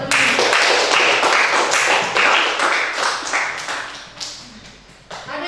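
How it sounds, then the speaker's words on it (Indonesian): A class of students clapping together in a classroom, a dense, steady burst of many hands close by that thins out briefly near the end and then picks up again. "Tepuk tangan dulu, teman-teman."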